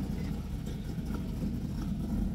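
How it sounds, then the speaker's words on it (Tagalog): A noisy car engine runs steadily at a low rumble, close by and continuous, with no talk over it. "Ang ingay na sasakyan ni Jun."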